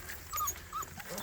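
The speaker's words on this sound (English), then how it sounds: "Puppies, puppies. Everywhere there's puppies." Young puppies whimper with a few thin, high squeaky whines in quick succession, soft and close, in a farmyard setting with goats nearby.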